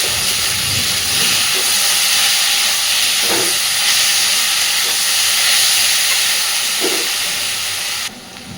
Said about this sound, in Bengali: আদা রসুনটাকে দিয়ে আমি ততক্ষণ পর্যন্ত কষাতে থাকবো যতক্ষণ না মশলা থেকে কাঁচা গন্ধ ছেড়ে যাচ্ছে